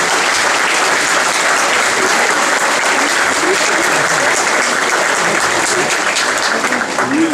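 Loud, sustained applause from a large congregation during a sermon, dense and even clapping with crowd noise filling the whole stretch without pause.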